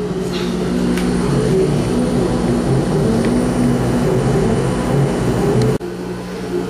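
A laser cutter cuts out wooden gears in a workshop, giving a steady droning mechanical hum with faint tonal whine and occasional light clicks, continuous and fairly loud before cutting off abruptly near the end.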